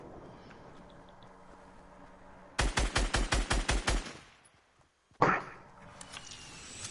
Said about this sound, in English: More rockets continue to get fired at the enemy as they realize they still need to move out of the way.